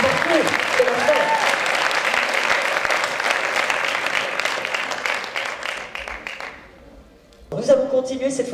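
Sustained audience applause at an award ceremony honouring a medal winner, steady dense clapping for about six seconds that thins and dies away, then a voice begins speaking over the room.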